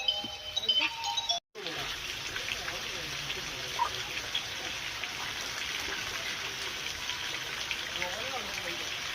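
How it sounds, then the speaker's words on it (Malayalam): Steady rain patters down on surfaces in a continuous hiss, with a brief cutout near the start and faint background sounds. "ഫ്രണ്ട്സ്, അപ്പം നല്ല മഴയായി കേട്ടോ."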